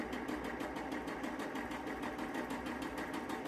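A sewing machine runs steadily, stitching a seam on a tote bag made from a T-shirt, its fast rhythmic needle pulses continuous and close throughout, with no talking.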